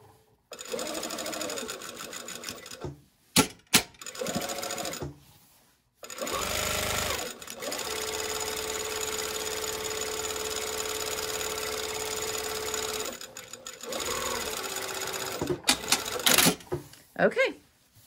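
A home sewing machine stitching a seam in short whirring bursts separated by pauses, then one long steady run of several seconds, followed by more brief stops and starts close by.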